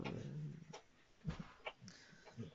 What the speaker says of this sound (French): vous entendez le chien